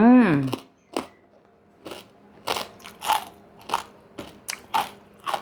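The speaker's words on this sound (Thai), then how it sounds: "ฟังเสียงแคบหมูค่ะ" Crispy fried pork rinds are bitten and chewed up close, with a series of sharp, loud crunches spaced irregularly between quiet pauses; a brief vocal sound at the start.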